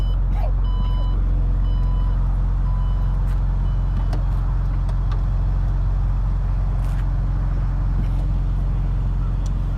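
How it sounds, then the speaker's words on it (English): Rear air suspension on a Porsche Macan GTS lowering the back end for loading, with steady electronic warning beeps over a constant low idling rumble. "if you press this button and hold it down, it'll actually lower the back end of the car to make it easier to load cargo in"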